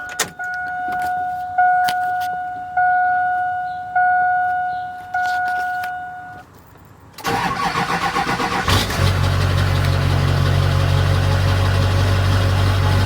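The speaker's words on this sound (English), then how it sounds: "Let's do a little cold start." A pickup truck cranking over several times in a rhythmic series of starter whirs before the cold engine catches and settles into a loud, steady idle, close up with no talking.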